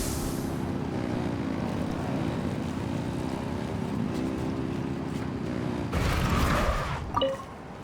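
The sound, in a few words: engine at full throttle in the video game Genshin Impact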